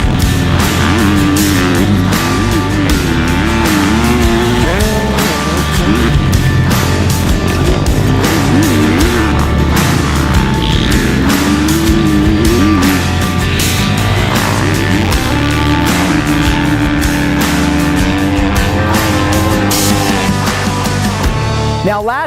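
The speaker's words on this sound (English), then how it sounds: "today we get our first chance to ride the 2020 KTM 250 SXF." A 2020 KTM 250 SXF motocross bike is ridden hard. The engine note is loud and continuous, revving up and down as it is ridden.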